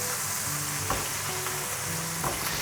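Oil in a fry pan, heated for frying fish, gives a dense, even, close sizzle that holds steady throughout, with a couple of soft knocks and no talking.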